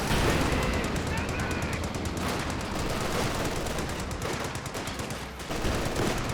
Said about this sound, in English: Rifle grenade fired.